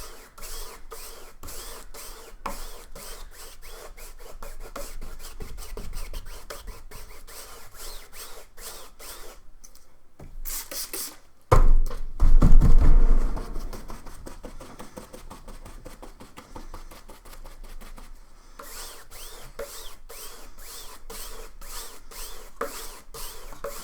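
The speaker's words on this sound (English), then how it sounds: "drying off my brush, trying to get most of that paint off." A paintbrush loaded with acrylic paint is rubbed and wiped dry in quick, repeated rhythmic scrubbing strokes, close and dry-sounding, with a louder burst of handling partway through.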